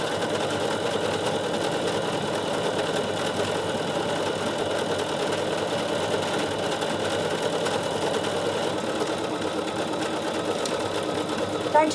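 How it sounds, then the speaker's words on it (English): A Bernina 7 Series sewing machine stitches a decorative pattern at a steady automatic speed, a continuous close mechanical whirring with rapid rhythmic needle clatter throughout. "Don't you love the way the machine goes at the speed that suits that?"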